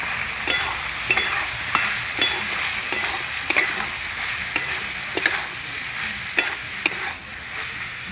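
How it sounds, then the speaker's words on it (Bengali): A spoon stirs dried fish with potato and onion stalks in a hot pan, giving steady sizzling frying noise punctuated by regular scraping clacks of the utensil against the pan. "এবার আমি নেড়ে চেড়ে নেব।"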